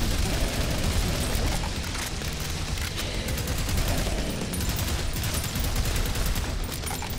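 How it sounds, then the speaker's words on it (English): Continuous dual machine gun fire in the first-person shooter Prodeus, a dense, relentless roar of rapid shots and booms filling the whole stretch at high volume with no pauses. "Double machine gun."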